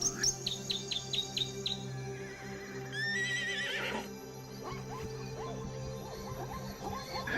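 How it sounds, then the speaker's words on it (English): Repeated loud zebra neighs and whinnies ring out in quick bursts, followed by a sustained call, with chirping birds and insects in the background. "They bond with each other through loud neighing and intimate rubbing"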